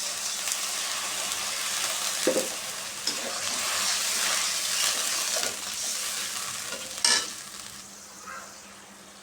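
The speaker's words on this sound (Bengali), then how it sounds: "ভাজা হয়ে গেছে, পানি দিয়ে দিব।" Ginger-garlic paste and spices fry in hot oil in a pan, with a steady close sizzle throughout and a few sharper stirring scrapes and spatters.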